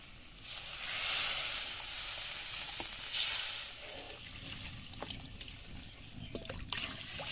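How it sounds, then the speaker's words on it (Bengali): Water poured into a hot wok of fried-down spices for a Bengali pabda fish curry, setting off a bright sustained sizzle with trickling liquid and occasional stirring clinks, close and steady. "মা এখন কড়াইতে পরিমাণ মতো জল দিয়ে দেবেন"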